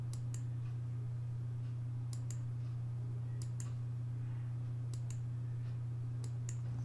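Computer mouse clicks and keyboard shortcut presses sound while someone works in Photoshop 2022, a few sharp, sparse clicks over a steady low electrical hum, with no talking.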